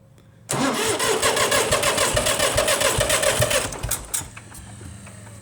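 An IH 484 diesel tractor engine cranks hard and close for about three seconds with a fast, even churning rhythm, then winds down into a few scattered sputters and quiet.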